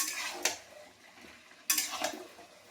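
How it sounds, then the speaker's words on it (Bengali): A spoon stirs fried eggs and chicken pieces with spices in a pan for a thin egg-chicken curry, making two scraping sweeps against the metal over a soft sizzle, with no talking. "এগুলো সব একসাথে একটু নেড়ে নেবো"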